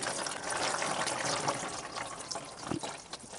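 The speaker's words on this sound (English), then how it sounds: "I'm going to let this drain for a while to get as much of the old oil out as I can." Old engine oil drains steadily from a Cub Cadet Challenger 750 utility vehicle after a brief warm-up, a soft, close trickling pour that runs continuously without talk.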